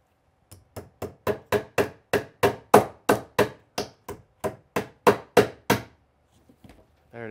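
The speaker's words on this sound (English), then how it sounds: "I'm gonna put that staple on there, another loose staple." A staple gun or hammer drives staples holding electrical wire in place during a bathroom remodel: about sixteen sharp, evenly spaced strikes in a quick steady rhythm, close and loud, with no talk.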